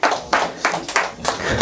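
A church congregation clapping during a sermon: a few loud, spaced bursts of hand claps in quick succession, with no speech.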